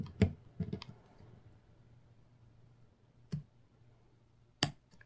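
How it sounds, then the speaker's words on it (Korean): Scissors snip diagonally through plastic canvas to shape a heart keyring: a quick pair of close, crisp clicks, then two more single snips spaced apart over a quiet background. "여기도 대각선으로 잘라주는데, 자르는 부분은 여기, 그 다음에 여기, 요렇게 잘라줍니다."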